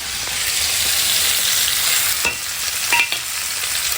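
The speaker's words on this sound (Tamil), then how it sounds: "இப்போ வந்து நம்ம பிரிஞ்சும் தாளிச்சுக்கலாம். பட்டை லவங்கம் ஏலக்காய் எல்லாத்தையும் போட்டுக்கலாம்." Whole cinnamon, clove and cardamom sizzle steadily in hot oil as they are tempered, a close, continuous hiss with a few faint stirring clinks and no talking.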